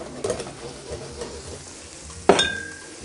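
A bluefish fillet sizzles in a pan on the stove as white wine goes in, a soft steady frying hiss broken near the end by one sharp metallic clink.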